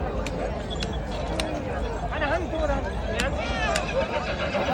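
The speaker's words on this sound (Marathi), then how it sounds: "बघा घोडा" A horse whinnies amid a noisy crowd at a livestock show at the Malegaon fair, with a few sharp clicks and people talking in the background.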